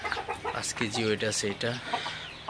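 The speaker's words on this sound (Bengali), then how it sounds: "এটা হচ্ছে কলম্বিয়ান ব্রাহ্মার মুরগি।" A Colombian Brahma hen weighing about five kilograms clucks in a series of close, rhythmic calls while someone talks over them.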